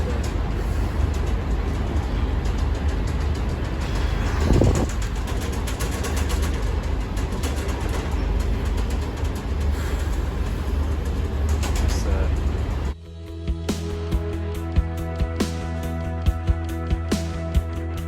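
Steady low rumble of a train ride in France, continuous and loud, shifting abruptly near the end to quieter tonal hum with sharp clanks and rattles as the carriage moves.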